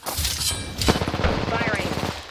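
Rapid automatic gunfire in the Apex Legends battle royale game, a fast, even burst of shots lasting about two seconds, with a brief voice over the top.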